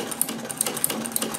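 A straight stitch sewing machine fitted with a zigzag attachment runs in a quick, even rhythm of sharp mechanical clicks, close and moderately quiet, with no speech.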